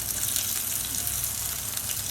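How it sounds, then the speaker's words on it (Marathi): Onions fry in a pan for a Vidarbha-style chicken curry, a continuous close hiss and sizzle that holds steady throughout, with no talking. "कांदा बी भाजून घ्यायचा चांगला."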